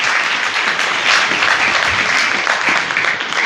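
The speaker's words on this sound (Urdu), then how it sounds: "ان کے لیے بھی زوردار تالیاں بجاتے ہیں" A church congregation applauds during Sunday Mass, with dense, loud, sustained clapping that holds steady throughout and no voices over it.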